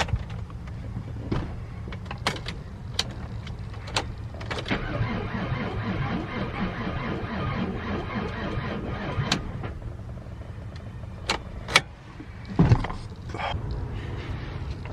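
A car's starter cranks repeatedly without the engine catching, a steady whirring grind lasting several seconds with sharp clicks and knocks around it, recorded close up.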